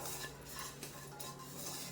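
Ground fenugreek and mustard dry-roasting in a pan for mango pickle, with a spoon scraping and stirring against the metal in a quiet, steady rhythm.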